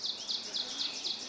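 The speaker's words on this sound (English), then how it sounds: "hearing the birds, even though we can't see them" High, bright bird chirps repeat in a quick rhythmic pattern, close and fairly clear over a quiet background, near the banks of the Chippewa River in Wisconsin.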